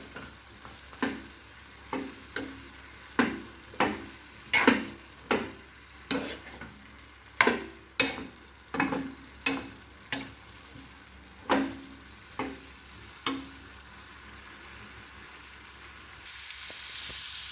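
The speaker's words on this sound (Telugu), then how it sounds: "ఇది మధ్య మధ్యలో కలుపుకుంటూ ఉండాలండి, క్యారెట్ లేకపోతే మాడిపోతుంది." Carrots frying in a pan while a spoon stirs them, giving a steady series of sharp scraping strokes roughly once a second over a low sizzle, with no voices.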